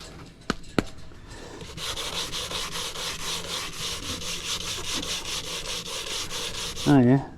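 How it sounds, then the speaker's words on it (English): Sandpaper, a finer grade and not new, rubs with steady back-and-forth strokes over a boat hull, close and continuous for several seconds after a couple of sharp knocks. "I'm not even using a new bit of sandpaper"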